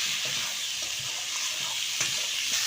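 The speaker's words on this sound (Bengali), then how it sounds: "এবার আমি ভেজে রাখা আলু পটলগুলো দিয়ে দিলাম।" Fried potatoes and pointed gourd tipped into a pan of cooked-down spice paste for a rohu fish curry, setting off a steady close sizzle with soft stirring scrapes throughout, no voices.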